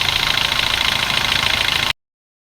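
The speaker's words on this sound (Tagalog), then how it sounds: "Tapos napaandar din natin makina." A car engine idles steadily after a thermostat temperature sensor replacement, a close, even mechanical hum that runs for about two seconds and then cuts off, with no speech.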